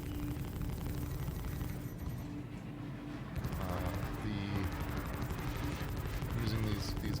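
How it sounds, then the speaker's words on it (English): Gimbaled ship weapons on a Pisces C8X Expedition in Star Citizen fire in dense, continuous bursts, a loud rattling barrage of gunfire sustained throughout with a burst of brighter impacts midway. "using these gimbaled weapons is really helping me out here"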